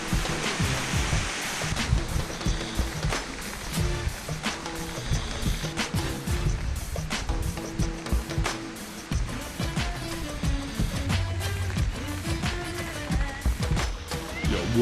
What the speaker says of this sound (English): I can hear a waterfall.